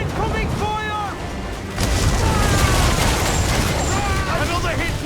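Naval battle in Assassin's Creed IV: Black Flag, where heavy cannon fire booms loudly over ocean wash and ship noise. Voices shout in the background.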